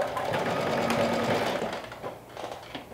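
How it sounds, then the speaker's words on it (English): A home sewing machine runs steadily through a basting stitch joining two fabric layers, a continuous whirring hum that eases off toward the end. "So let's go ahead and do a basting stitch"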